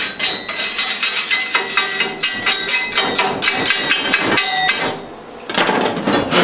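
Rapid, loud hammer blows drive a 3/4-inch-thick steel spacer ring into place during crane fabrication, a dense run of sharp metallic strikes close up with a brief pause before the pounding resumes.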